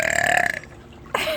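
A loud, drawn-out burp from a contestant in a burping contest, croaky and sustained for about half a second, followed by a brief pause and a short vocal sound.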